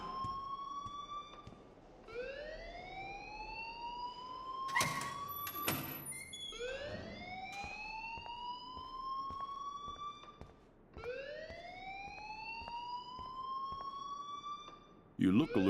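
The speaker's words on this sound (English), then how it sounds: "please turn off that alarm since that's your job" An alarm in the Life is Strange video game sounds as repeated rising, siren-like wails in a steady cycle, loud and prominent, with short clattering bursts between some cycles.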